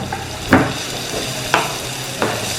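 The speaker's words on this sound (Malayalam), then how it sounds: "ഇതൊന്ന് എണ്ണയിൽ വാട്ടിയെടുക്കാം" Chopped onion, green chili, ginger and curry leaves sautéing in hot oil for an egg curry, a steady sizzle broken by three spaced scraping stirs, close and fairly loud.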